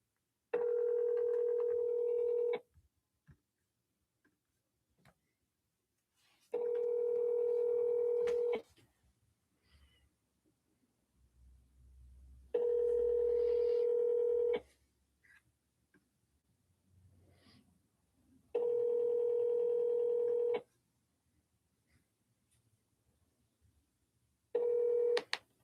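Telephone call to a real estate contact: repeated loud ringback tones, each about two seconds long and separated by gaps of a few seconds, heard up close with faint handling noise between rings.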